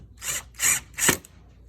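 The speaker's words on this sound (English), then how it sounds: "Take my drill and we take the screw, start it, make sure that everything's lined up." A power drill drives a screw into wood for a handmade Mother's Day gift, three short whirring bursts spaced evenly, close up with no talking.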